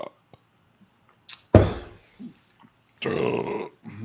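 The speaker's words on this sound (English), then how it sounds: "This one makes me burp." A man burps after drinking Festbier, producing a short, low, guttural belch up close, followed by brief breathy vocal noises, with quiet pauses between.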